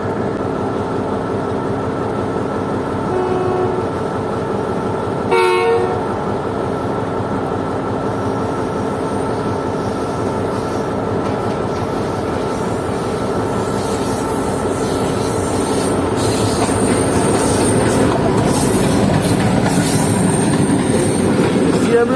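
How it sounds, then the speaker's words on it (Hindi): The Sukkur Express passenger train passes on a railway in rural Sindh, loud and close, with a continuous rumble of wagons, rhythmic wheel clatter and intermittent high wheel squeal, plus a brief sharp clank midway. "146 डाउन सक्खर एक्सप्रेस, जो कि इस वक्त बिल्कुल मेरे सामने है"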